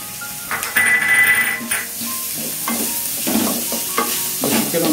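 Shredded chicken drops into hot oil in a pan with vegetables for chicken fried rice, bringing a steady sizzle with scraping stirs and clattering pan knocks throughout, close and moderately loud.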